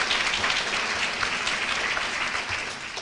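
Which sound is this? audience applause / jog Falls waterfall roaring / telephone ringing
audience applause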